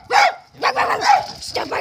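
A dog barks close and loud, about four sharp barks spaced irregularly with brief silences between them.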